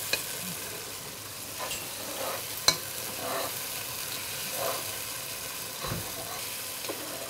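Spices and ground poppy seed paste being stirred in hot oil for shahi mutton rezala, a soft steady sizzle with intermittent scraping strokes of the spoon, fairly quiet and close.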